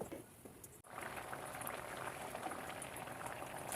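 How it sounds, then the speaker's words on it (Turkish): Steady bubbling of tomatoes simmering in a pot, a dense wet burble that continues evenly after a brief drop near the start, heard close with no voices. "Ve domatesler suyunu çekene kadar pişirdim"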